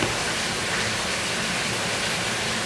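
Steady rain falls outside, a dense, even hiss that stays at one loud level throughout with no voices.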